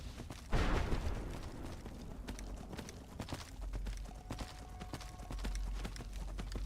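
A horse in Skyrim Dawnguard trots along with a string of irregular hoof clops under a low rumbling game ambience, fairly quiet and without speech.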